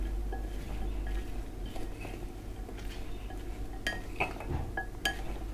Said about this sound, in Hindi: सैलेड को मिक्स कर लें।